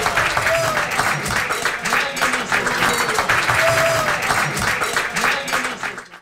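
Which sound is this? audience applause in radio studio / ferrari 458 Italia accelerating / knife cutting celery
audience applause in radio studio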